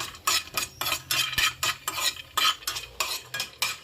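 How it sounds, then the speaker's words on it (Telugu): Raisins and almonds frying in a pan for semiya payasam, stirred with a utensil in a regular rhythm of about ten scraping strokes, close and fairly clear, with no talking. "నేను అన్ని సపరేట్గానే ఫ్రై చేస్తున్నాను"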